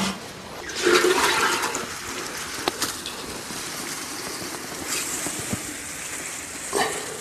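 Water is sprayed over wild mushrooms outdoors in a burst that gushes loudly near the start, then settles into softer trickling and splashing with a few brief knocks and a second spray toward the end.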